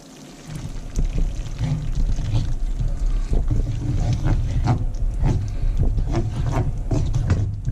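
A whole 200ml container of sour cream slides out into a pan of Swedish meatballs, a steady close-up pour with soft wet plops and scraping knocks over a constant low rumble.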